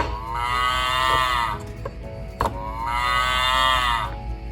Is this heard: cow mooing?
yes